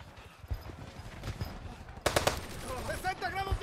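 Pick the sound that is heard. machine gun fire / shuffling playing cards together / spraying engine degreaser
machine gun fire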